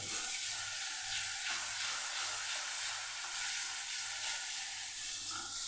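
Masala paste with fresh coriander leaves sautéing in hot oil, a steady close hiss and sizzle running without a break, with faint stirring scrapes underneath.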